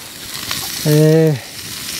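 Food sizzles in a small frying pan at a wild winter camp in a four-season tent, with a brief louder burst of frying amid steady hiss and crackle, close up and with no talking.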